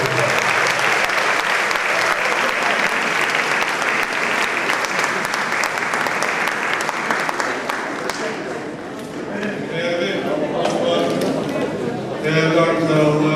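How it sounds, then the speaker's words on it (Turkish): Loud, sustained applause from a concert audience at a Turkish world music ensemble performance, steady clapping for about eight seconds before a speaker begins talking over it as the clapping thins, then a fresh burst near the end. "alkışlarınızla sahneye davet ediyorum"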